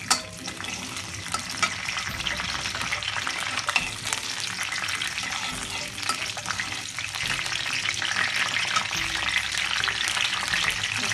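Cardamom pods, cinnamon and bay leaves fry in hot oil while being stirred, giving a close, steady sizzle with scraping stirring sounds and occasional spatters, continuous throughout with no voices.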